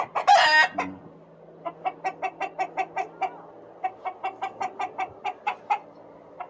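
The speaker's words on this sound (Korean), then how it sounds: "요집에서 키우는 건데 어, 수탉" A rooster kept in a neighbour's tidy coop in rural Goesan, Chungbuk, gives one loud nearby crow, then a long series of rhythmic, evenly spaced clucks.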